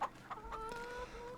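Geese on a farm in the video game Farming Simulator 25, giving a few short honking calls and a drawn-out cackling cry, fairly near and clear with no talk.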